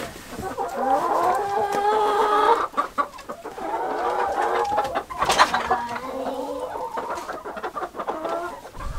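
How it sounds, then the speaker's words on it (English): Chickens cluck steadily with a rooster's harsh call rising partway through, close by and fairly loud, no voices, on a Minnesota homestead. "The rooster's over there."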